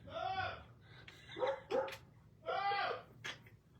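A dog barks and yips several times indoors, short bursts with pauses between them, moderately close.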